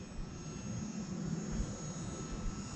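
An E-flite UMX Cirrus SR22T micro RC airplane flying at quarter throttle, its small electric motor giving a steady, fairly faint whirring drone with no pauses.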